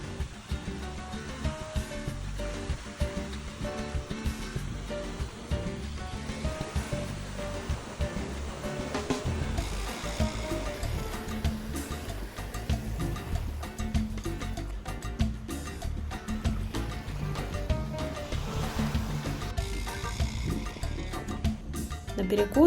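Sea waves wash onto a beach in a steady, broad roar with no pauses, heard up close and alone, with no voices.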